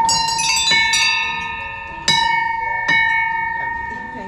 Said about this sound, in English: the second one is to ring this bell three times